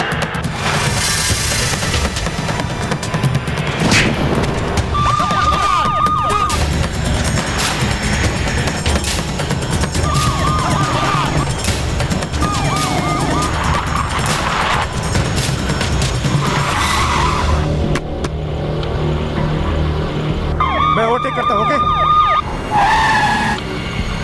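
A judge's car in an action movie scene screeches through repeated tyre skids over a busy roar of engines and clatter, with sharp whistling squeals recurring across a long, loud, chaotic stretch.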